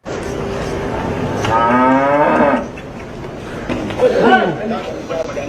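A cow lets out a long, loud moo close by, followed by a second lower call, with people chattering in the background.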